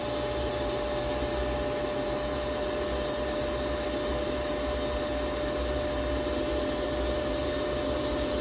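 A waste oil burner with an air blower fires in an outdoor boiler, giving off a steady, even roar with a faint constant whine, close and unbroken throughout, no talking.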